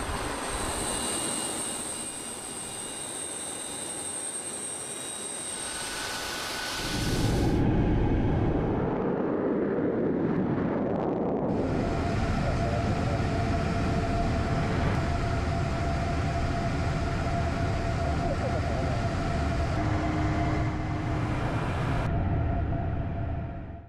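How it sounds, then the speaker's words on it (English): A Russian Tu-160M nuclear-capable bomber in flight, a loud continuous engine roar and airflow drone heard from inside the cockpit, shifting character several times across the span with no speech. "Vladimir Putin in Top Gun mode, flying around in a nuclear-capable bomber."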